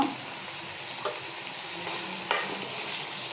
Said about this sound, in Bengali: এখন পিঁয়াজ আর রসুন তো এটা ভেজে নেব